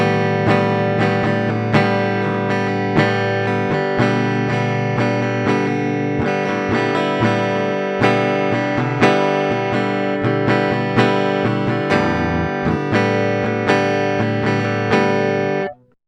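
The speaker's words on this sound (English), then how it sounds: "Finally, we're going to add some distortion to the mix." Heavily distorted electric guitar chords, recorded and mixed in FL Studio, ring out loud and thick, struck repeatedly in a steady rhythm before cutting off abruptly at the end.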